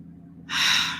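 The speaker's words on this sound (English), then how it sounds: "Breathing in and breathing out." A single deep inhale during a guided meditation starts after a half-second hush and swells into a close, airy breath that fades slightly at the end.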